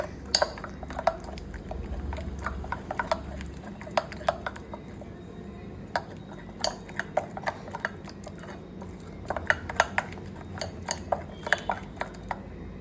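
A spoon clinks and scrapes steadily against a bowl while mixing oat chapati batter with milk, giving faint, irregular taps over a quiet background.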